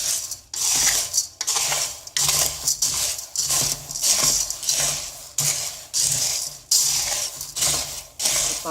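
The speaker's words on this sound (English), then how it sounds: "After that I'll powder it using a grinder." An electric kitchen grinder powders black gram (urad dal) into a coarse powder, running in repeated short whirring bursts separated by brief pauses.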